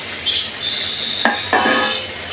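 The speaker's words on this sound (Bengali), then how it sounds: "এবার ভেজে রাখা আলুগুলো দিয়ে দেবো" Fried potatoes being stirred into half-cooked chicken kosha in a pan, a light sizzle with two sharp scraping clatters of a spoon against the pan.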